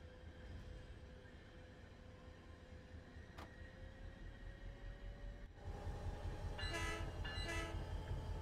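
A diesel locomotive horn sounds in a train simulator game, two loud chord blasts after a steady rumbling idle, with a faint earlier tone and a brief tick.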